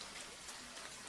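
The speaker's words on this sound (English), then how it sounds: "Spring rain never turns the whole world green at once. It falls slowly, quietly, patiently." Spring rain falls in a soft, continuous hiss of dense drops, steady and even with no other sounds.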